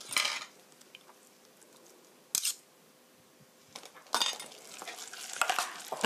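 Guacamole with ground black pepper being stirred in a bowl: a few close, soft scraping and clinking strokes, a brief burst near the start, a short knock midway, then steadier mixing toward the end, quiet and without talk.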